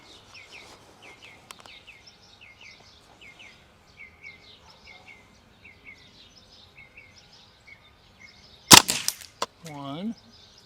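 Airsoft gun firing .32 BBs at a middle target, a single sharp crack near the end followed by a short rattling ring, with birds chirping quietly outdoors throughout.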